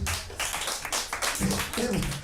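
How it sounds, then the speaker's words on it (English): A comedy club audience claps during a stand-up set, a burst of loud, dense clapping filling the room with a few brighter individual claps standing out. "Clapping a little too loud for that."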